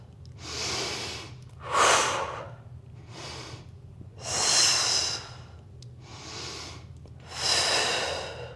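Slow, deep breaths during a home Pilates mat class, each long, airy exhale and inhale coming close to the microphone in a steady rhythm of about six breaths, with no talking.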